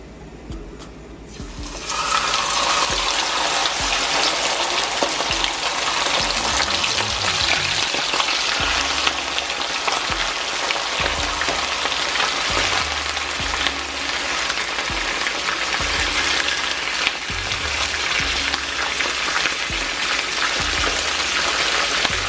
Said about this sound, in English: Okay, make sure your oil is hot.